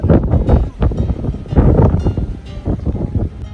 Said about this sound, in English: you can still probably hear the wind. This wind is crazy